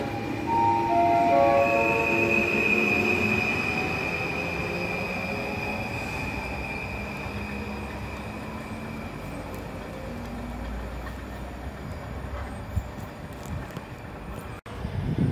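Trains at Łowicz Główny railway station in Poland: loud rolling wheels and rail clatter with high squealing tones that slide and fade, the rumble slowly receding, heard without talk.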